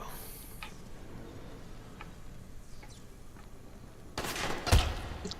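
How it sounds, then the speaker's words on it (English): Gunfire in the zombie survival game Dying Light: a sharp, loud burst of shots near the end follows a quieter stretch of faint ticks and ambient game noise. "Shooting me is not nice for a person to do that."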